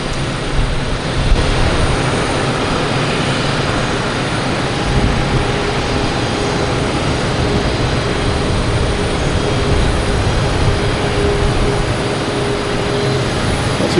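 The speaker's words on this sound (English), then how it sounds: "There's a JetBlue coming from LAX," A JetBlue Airbus A321 jet at Boston Logan airport, a steady broad engine rumble and hiss holding at an even level throughout, with a faint whine above it and no voices.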